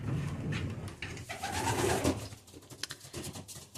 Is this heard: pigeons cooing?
yes